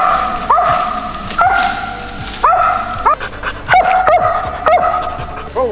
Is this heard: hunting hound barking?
yes